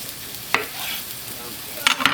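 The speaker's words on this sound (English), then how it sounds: "now we're going to grab our tomato, place it onto the cutting board, go ahead and cut it into 4s" Knife cutting a tomato into quarters on a cutting board, with three crisp, close chopping taps against a soft background hiss.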